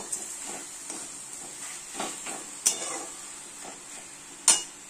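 Cabbage and vegetables being sautéed with sugar in a pan, a low hiss of frying under intermittent stirring scrapes and a couple of sharper clinks of the spoon against the pan.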